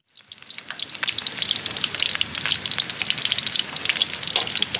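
Batter-coated cá linh fish fry in hot oil in a pan with a loud, close sizzle. Thick crackling and popping rise within a fraction of a second and continue densely without a break.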